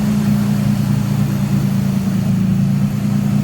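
A 2009 Toyota Tacoma engine idles with an exhaust leak, a steady, close, low droning hum that holds constant throughout with no talking.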